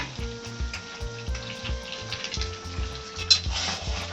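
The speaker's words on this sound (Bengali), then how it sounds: "সর্ষে বাটাটা দিয়ে একটু নাড়াচাড়া করে এবার একটু জল দিয়ে দিচ্ছি অল্প করে, ডাঁটাগুলো সিদ্ধ হবে ভালো করে," Malabar spinach stems simmer in a pan with mustard paste and a little added water, giving a soft steady sizzle and bubbling with occasional stirring scrapes, alone and close, with a low hum underneath.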